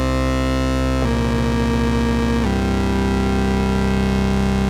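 A Moog Subsequent 37 synthesizer in paraphonic mode holds a loud, sustained two-note chord. It is thick and buzzy, with a brief rougher, beating stretch in the middle before it settles back to a steadier drone.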